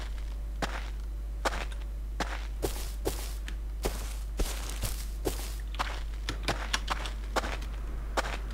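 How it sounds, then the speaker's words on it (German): In the video game Rust, footsteps sound as sharp, evenly spaced crunching steps, close and steady over a constant low hum, with no talk. "Ich höre gerade Schritte, bist du das?"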